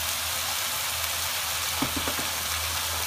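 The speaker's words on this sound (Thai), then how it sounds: "วันนี้จะผัดแบบใส่เต้าเจี้ยวด้วยนะคะใส่เต้าเจี้ยวไป แล้วก็ซีอิ๊วขาว" Chicken stir-fries with ginger, fermented soybean paste and light soy sauce, giving a steady, close sizzle broken by a few quick clacks of stirring near the end.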